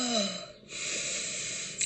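A long, deep inhalation drawn in close to the microphone, a breathy rushing hiss that briefly dips and then continues steadily, following a short vocal sound at the start.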